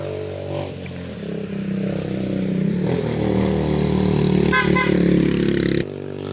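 A motorcycle engine drones and strains nearby as it rides uphill, its pitch rising as it labors, with some rattling clatter and a brief higher whine mid-way.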